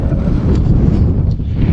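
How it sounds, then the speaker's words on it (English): Steady wind buffeting a microphone outdoors, a loud continuous low rumble with no pauses throughout. "but the wind's blowing."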